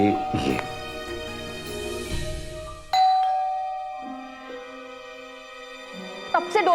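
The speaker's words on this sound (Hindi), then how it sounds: "कब से डोरबेल बज रही है, सुनाई नहीं देता?" A home doorbell chimes with bright ding-dong tones, one burst early, a loud clear ring at mid-point and another near the end, while people talk over parts of it indoors.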